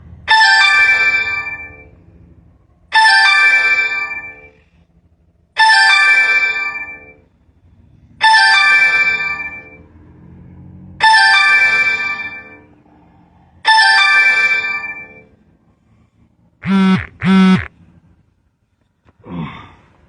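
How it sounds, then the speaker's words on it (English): An outgoing phone call rings back six times in slow, evenly spaced bursts over quiet silence, then a few short chirps and clipped tones as it rolls over to voicemail. "Let's see how many times it rings before it goes to voicemail."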